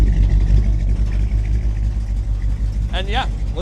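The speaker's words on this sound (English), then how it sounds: "Throaty engine note." A 1969 Buick Riviera's engine idles with a deep, steady, throaty rumble close by, with a brief high squeak near the end.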